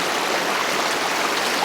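A stream's current runs steadily beside a gold prospecting site in pipe clay, giving a close, continuous rushing wash of water with no break and no voices.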